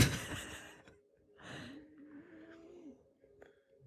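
A sleeping man's small breathing noise imitated by a voice, puffing air out through the mouth in a soft breathy burst followed by a faint, drawn-out exhale, close and quiet with no talk.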